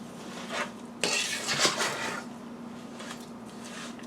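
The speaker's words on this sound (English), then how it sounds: "Just going to stir it until it comes to a full boil." Pumpkin spice fudge mixture stirred in a pot over medium heat, a spoon scraping and clinking against the pot in a few soft, uneven strokes, loudest near the middle, with quiet background hum.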